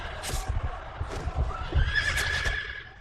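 Horses whinny and neigh on a battle film set, with scattered clip-clop of hooves, several calls overlapping, fairly close and loud.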